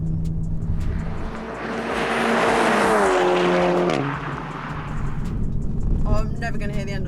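Two 500 hp Volkswagen Golf GTIs, a MK8 and a MK7 Edition 40, in a roll race, engines roaring past as a swelling rush that peaks and fades, with people talking over the sound.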